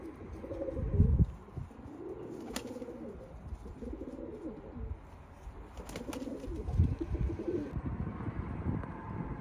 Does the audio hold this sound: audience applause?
no